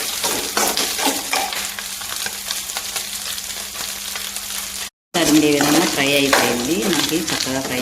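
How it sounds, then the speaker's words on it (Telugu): Mutton pieces fry in a pan for a goat blood fry, with a constant loud sizzle and the scrape of stirring up close. The sound cuts out briefly midway, then the sizzle and stirring return. "ఒక ఐదు నిమిషాలు ఫ్రై అయిన తర్వాత ఈ విధంగా ఉందండి కొంచెం ఫ్రై అవుతాం"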